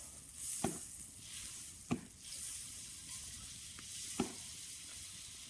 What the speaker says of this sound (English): Nothing better than the sound of butter sizzling.